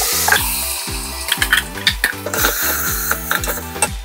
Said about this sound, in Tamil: இந்த அரைச்ச விழுது இதில் சேர்த்துருவோம்.